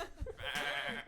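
A woman on a podcast imitates a horse's neigh with her voice, giving one close, drawn-out, wavering whinny after a brief breathy lead-in.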